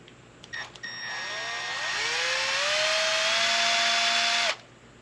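A power drill spins up with a rising whine, holding a steady high-pitched hum for a few seconds while starting a thread on a heavy-duty steering link for a Redcat Gen8 RC crawler, then cuts off abruptly.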